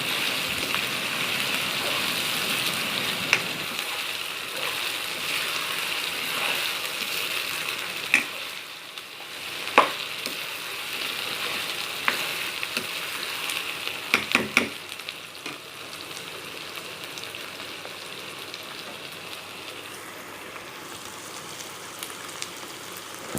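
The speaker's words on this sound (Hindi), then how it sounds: "पेस्ट डालने के बाद 1 मिनट के लिए हम फिर से इसको फ्राई कर लेंगे।" Steady, close sizzling of ginger garlic paste frying in a hot pan, with a few sharp clinks and scrapes of stirring scattered through; no voices.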